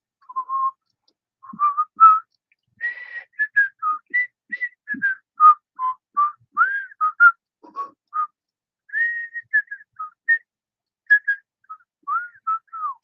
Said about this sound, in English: Whistle that tune.